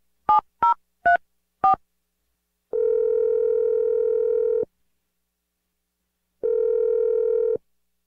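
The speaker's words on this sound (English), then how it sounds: "I'm going to dial the number right now." A telephone dials a number: four short tone beeps in quick succession, then two long ringback tones separated by a pause, clear and close with no talking.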